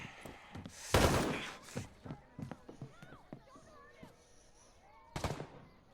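Gunfire in Ghost Recon Breakpoint comes as a loud burst of shots followed by scattered sharp reports and another burst near the end, while people talk excitedly throughout.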